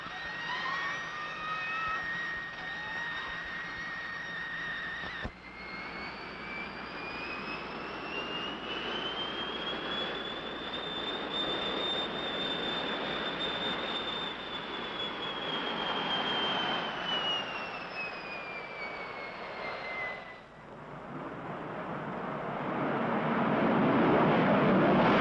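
A jet aircraft on its regular jet engine, without afterburner, flies past with a loud, sustained roar whose pitch rises and falls as it approaches and recedes.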